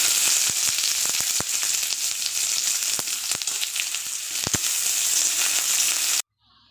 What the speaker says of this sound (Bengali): আমি একটু পেঁয়াজ ভেজে নেব